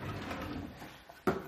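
A kitchen drawer is pulled open to reach a plastic food storage container, giving one sharp scraping knock near the end after a low, steady room background.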